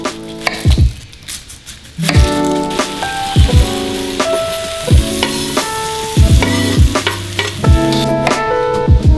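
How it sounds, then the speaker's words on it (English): Turkey sizzling and frying loudly in a pan, close up, with repeated scraping stirs of a utensil breaking through the steady crackle. "Now that the turkey is cooking"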